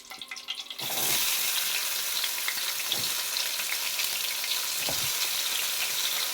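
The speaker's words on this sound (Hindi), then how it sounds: "तो अब इसमें मैं प्याज रोस्ट करूँगी, हल्का ब्राउन करूँगी ना।" Sliced onions frying in about a spoonful of hot oil over moderate heat, a steady loud sizzle starting after a quiet first second, with a couple of soft stirring scrapes and no talking.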